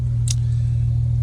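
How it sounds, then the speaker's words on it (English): A Porsche 911 with a new exhaust idles close by in a steady, loud low drone. A brief sharp click or hiss breaks in near the start. There is no clear rev. "figured I'd get some sound clips for you guys with the new exhaust in the Porsche 911"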